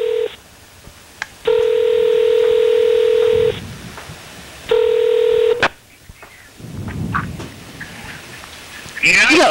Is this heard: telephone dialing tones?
yes